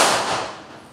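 A single gunshot at a police firing range, a sharp close crack fading into a brief decaying echo.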